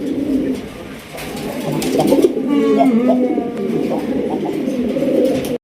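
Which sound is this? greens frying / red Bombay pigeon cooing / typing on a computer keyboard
red Bombay pigeon cooing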